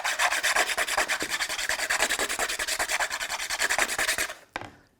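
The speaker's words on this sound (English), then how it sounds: "take the point, put it right on the sandpaper, and then you're going to kind of make round motions" Plastic eyeglass temple tip rubbed in quick circles on sandpaper, a loud, close, rapid rhythmic scratching that goes on for about four seconds before stopping, with no talk.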